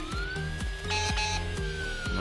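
Police siren in a police simulator video game while escorting a motorcade, a loud wailing tone sweeping steadily over a rhythmic engine throb and rumbling road noise.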